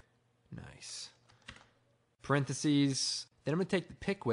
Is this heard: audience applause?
no